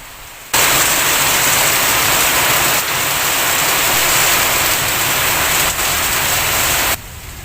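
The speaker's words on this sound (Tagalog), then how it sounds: "Ang lakas ng ulan ay nagpapahiwatig o nagsasalita para sa sarili nito" Steady rain falls in a dense, continuous broadband hiss that begins abruptly after a brief quiet moment and holds at an even, loud level for several seconds before easing slightly at the end.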